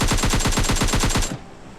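AKM assault rifle gunfire in PUBG Lite, a loud rapid automatic burst of about a dozen evenly spaced shots that stops abruptly, followed by a brief quiet tail.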